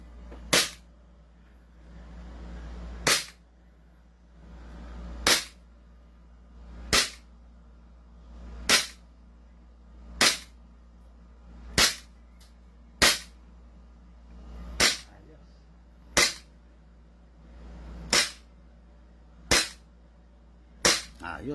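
An airsoft gun fires at a target in a steady series of about eleven sharp, loud pops spaced roughly two seconds apart, with a low background rumble and no talking.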